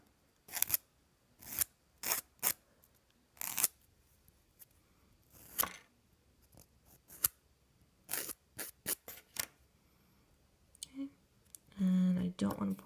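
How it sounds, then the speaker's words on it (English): A nail file rasps in short, separate bursts close up while filing off the loose remainder of a Jamberry nail wrap, with pauses between the strokes. "So I'm going to file the rest of this off."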